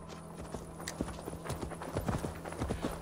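Hooves of a horse in the video game Assassin's Creed Valhalla clop in a steady, even rhythm, close and distinct throughout, with a faint ambient background underneath.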